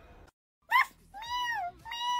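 A cat meows three times at close range, a short sharp call followed by two longer drawn-out meows, with a brief silent gap before the first.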